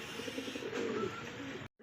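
Pigeons, including a pair of white German Beauty Homer birds, coo softly amid a dense, hissy backdrop of many birds at a market, steady throughout before a sudden cut near the end.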